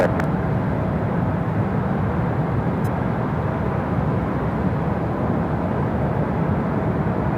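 A jet airplane rolls down the runway for takeoff at Phoenix airport, heard as a steady, loud, broadband engine roar that holds constant throughout with no voices.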